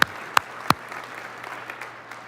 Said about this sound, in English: is that worth applauding here this morning or what?